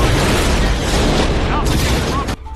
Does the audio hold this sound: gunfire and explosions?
yes